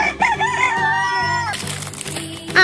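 A cartoon hen clucks and crows in a children's alphabet rhyme, a loud, bright rooster-style call with a tonal, stretched middle and sharp clucks at the start and end.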